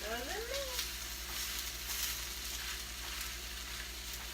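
An egg fries in a hot pan with a steady, soft crackling sizzle, fairly quiet and continuous, while a few faint whistling chirps rise briefly at the start.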